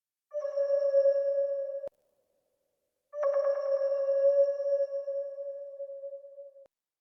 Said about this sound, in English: Next, we have the pad. This is another bellish type sound,